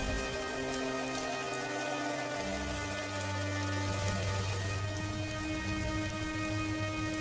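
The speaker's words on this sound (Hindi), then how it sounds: "देखते ही देखते भयंकर बारिश शुरू हो जाती है" Heavy rain falls in a dense, continuous wash, with a sustained tonal drone running underneath.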